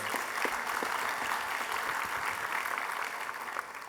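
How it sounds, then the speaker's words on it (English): An audience at an evening awards event gives a round of applause, continuous close clapping filling the room for a few seconds and tapering slightly at the end, with no speech over it. "So let's give them a round of applause."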